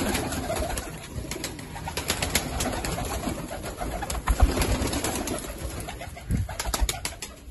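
Golden pigeons of a rare breed coo steadily at close range, soft repeated calls mixed with a busy aviary background of other birds.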